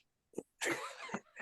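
A single sharp human sneeze, quiet and close, with a short intake burst just before the main explosive release and a brief tail after, set in a quiet room.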